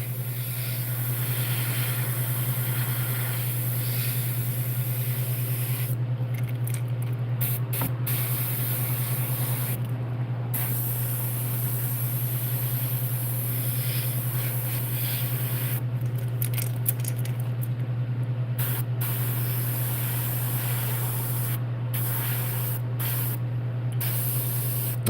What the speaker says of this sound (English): Yes, this is airbrushing